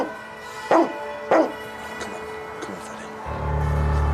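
A single dog barks twice in sharp, close bursts, followed by a few fainter yips, then a low rumbling hum rises near the end.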